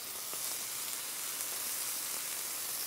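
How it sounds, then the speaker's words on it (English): Steady, dense sizzling of halloumi frying in a hot pan, its briny liquid sizzling out, a continuous crackling hiss with no voices. "what you get initially is the briny liquid sizzling out of it"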